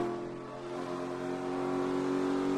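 An onboard NASCAR race car engine carries Jeff Burton around Auto Club Speedway in Fontana during the 2008 Auto Club 500, a loud sustained high-revving drone that builds slightly in strength with no speech over it.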